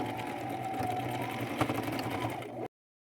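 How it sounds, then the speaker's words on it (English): Sewing machine running a zigzag stitch over fabric to make a boho belt from upcycled materials: a steady close mechanical whir and hum that stops abruptly near the end. "take it to my machine, and I am just going to do a few rows of zigzag stitch right over top of that"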